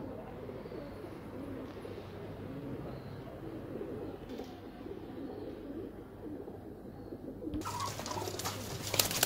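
Madrasi pigeons with long faces coo softly against a steady background hum, the low calls repeating through a quiet room, with a brief noisier burst near the end.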